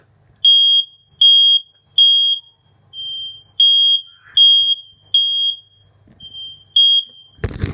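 A household smoke alarm in a house sounds a loud, shrill, high-pitched beep repeated in a steady series of about nine pulses, each roughly half a second long, alone in a quiet room and ending with a sudden clatter.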